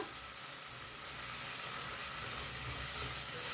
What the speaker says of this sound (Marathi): हे बघा कांदा टोमॅटो आपला छान फ्राय झालेला आहे